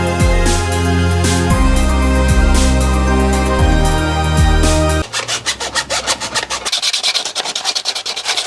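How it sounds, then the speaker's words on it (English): Sandpaper rubs over 3D printed plastic boat pieces in steady, close strokes: a continuous scratchy grind at first, then distinct rhythmic back-and-forth swipes. "So just roughing the pieces up. You get a bit of sandpaper there for us."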